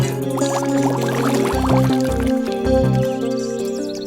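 Dirty water pours from a bottle in a gurgling, dripping stream, heard beneath loud tonal music.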